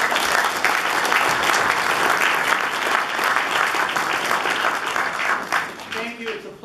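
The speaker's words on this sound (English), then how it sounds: "Please give him a round of applause" An audience at a university debate on fracking gives a round of applause, a dense, continuous clapping that stays strong for most of the stretch before tapering off, with a voice starting up at the very end.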